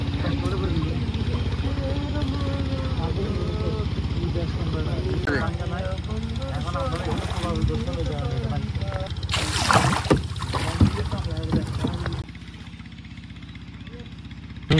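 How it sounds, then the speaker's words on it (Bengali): A boat on the Matamuhuri River near Alikadam, its engine drone running low and steady under voices and river ambience before cutting down near the end. "নৌকা থেকে নেমে পড়লাম"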